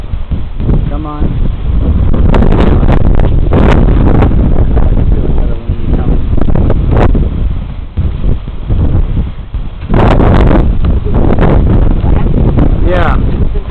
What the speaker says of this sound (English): Pick up all that wind.